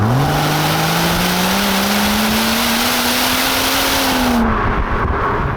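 A BMW M140i hot hatchback with a modified exhaust drives hard, its engine note climbing steadily as it accelerates under load, loud and close with no talk, before the sound drops away near the end.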